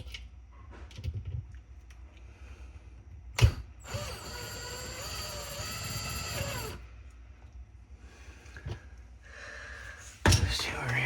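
A main pump being fastened into a Samsung DMT800RHS dishwasher, with close clicks, ratcheting and creaks, a sharp knock, and a longer whirring stretch of a driver turning a screw in the middle.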